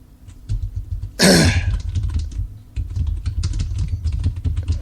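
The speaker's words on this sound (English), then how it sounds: "I'm just typing something right now to someone who left me a message" Keys clatter on a computer keyboard in steady, close bursts of typing, interrupted once by a loud cough or throat clearing, over a low background hum.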